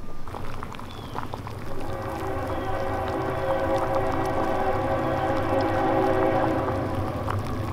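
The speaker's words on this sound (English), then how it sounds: "Train's here." A train rumbles past with a sustained, droning horn blaring over the rolling noise of the cars, loud and close.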